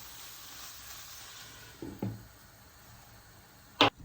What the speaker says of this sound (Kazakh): Араластырып, баяу отта 10 минуттай қуырамыз